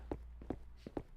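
Footsteps in a horror video game: four distinct, fairly close thuds in a quick, even walking rhythm over a low steady hum.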